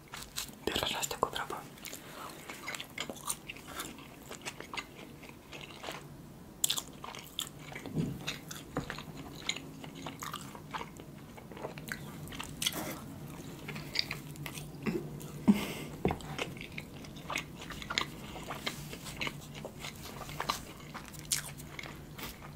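Close, quiet mukbang-style eating of pizza and mac and cheese, with repeated crisp bites, crunches and soft wet chewing in an irregular rhythm, near the microphone and with no talking.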